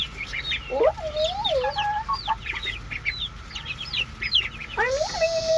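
A small backyard flock of nine chickens clucks and squawks nearby, busy overlapping calls with rising and falling rooster-like cries, heard alone without speech.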